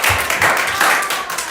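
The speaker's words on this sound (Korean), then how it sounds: "항상 이럴 때 박수 한번 감사하는 마음에서 박수 한번" A church congregation at a Korean Sunday youth service claps in thanks, a short burst of dense applause from a room full of people.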